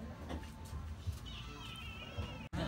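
A cat meows once, fairly close, at a family barbecue next door, a short wavering cry over a low steady background rumble.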